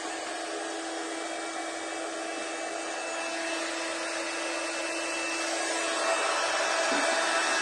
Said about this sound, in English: So I'm using a heat gun, so it might get a little noisy.